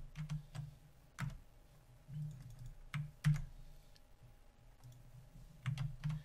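Keys on a computer keyboard are pressed in sparse, irregular taps and small clusters, close and fairly quiet, with pauses between presses and no talking.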